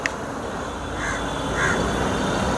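A couple of faint crow-like caws rise over a steady wash of roadside traffic noise, distant and partly masked.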